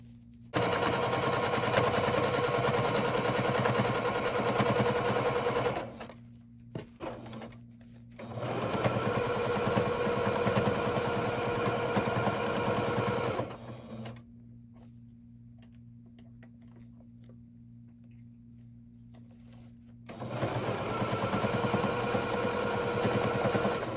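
A sewing machine stitches through three layers of fabric in bursts: a rapid, even mechanical rattle runs for several seconds, pauses with a few short stabs, runs again, goes quiet, then resumes, close and clear.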